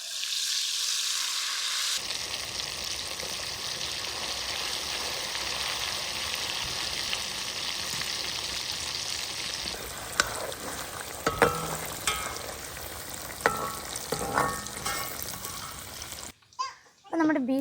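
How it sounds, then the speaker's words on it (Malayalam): Cooked beef pieces dropped into hot oil for Kerala-style beef pickle burst into a loud sizzle that keeps going, then stirring clatters and scrapes in the later part, with a voice in the background. "ഇനി നമുക്ക് ബീഫ് ഇട്ടൊന്ന് ഫ്രൈ ചെയ്തെടുക്കാം."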